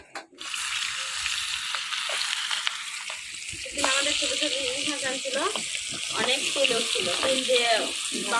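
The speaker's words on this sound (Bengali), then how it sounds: "এই মাছের এই তেলে মাছ ভাজবো" Hilsa fish frying in oil in a village kitchen, a steady broadband sizzle running throughout with a voice speaking over the latter half.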